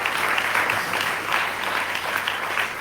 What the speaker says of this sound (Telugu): గట్టిగా చప్పట్లు కొట్టి దేవుడికి స్తోత్రం.